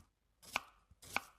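Two crisp knife chops strike a cutting board about half a second apart, from an AI-generated cooking video. Each is close and sharp against near silence, and no one speaks.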